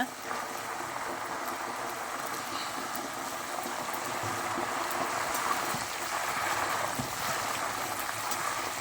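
Jackfruit chips fry in hot oil with a steady, fairly quiet bubbling hiss that runs unbroken throughout, no talking.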